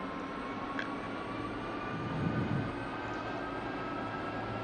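An F-16 jet engine spooling up during a simulated ground startup in DCS World, a steady broadband roar and whine with a faint rising surge, distant and even.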